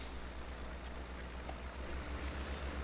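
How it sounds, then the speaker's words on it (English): Constant low engine rumble with a steady broadband hiss, like a heavy tractor working at a distance, unbroken throughout, a tractor plowing and cultivating a field in Farming Simulator 17. "Well, it's plowing right now."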